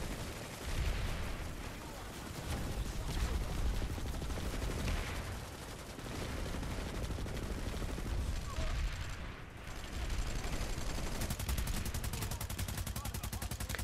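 Planetside 2 combat fills the whole stretch with dense, continuous gunfire. Rapid automatic bursts and overlapping shots stay loud and almost unbroken, with only a brief dip near the end.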